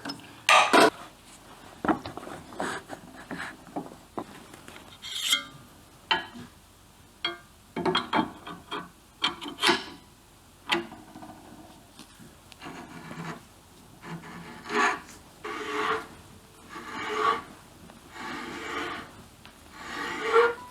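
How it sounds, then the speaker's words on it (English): A hand reamer cuts a metal motorcycle swing arm for a Tiger Cub, with intermittent scraping and rasping turns and clicks at close range, coming in irregular bursts separated by brief pauses. "You can see it cutting. On a reamer, you always go clockwise."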